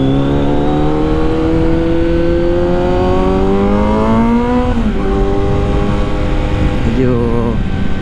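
Inline-four big bike engine riding on EDSA, a steady loud drone with rising and falling revs through gear changes, close and continuous under wind rush with no talk.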